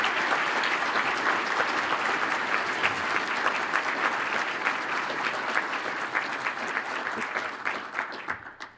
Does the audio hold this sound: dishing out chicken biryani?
no